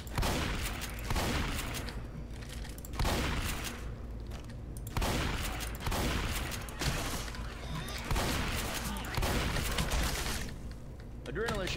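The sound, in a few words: shotgun fire in the video game Left 4 Dead 2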